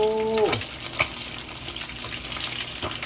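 Crappie fish frying in a pan, a steady crackling sizzle with faint water-like spatter that continues throughout after a brief voice at the start.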